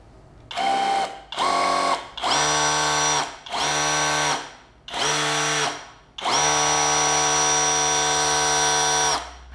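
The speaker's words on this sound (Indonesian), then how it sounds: "Kita mau dengar bagaimana suara brushless motornya." The brushless motor of a cordless jet cleaner whirs loudly in six separate bursts, each spinning up to a steady high-pitched whine and cutting off, with the last run held longest.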